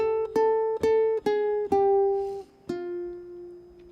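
A ukulele plays a short riff of about six plucked notes, bright and close, in an even rhythm with the last note left ringing.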